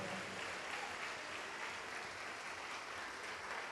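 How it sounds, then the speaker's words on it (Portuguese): A church congregation claps continuously during a worship service, a dense, even wash of applause from many hands heard at a distance. "vamos aplaudir mais ao nome do Senhor"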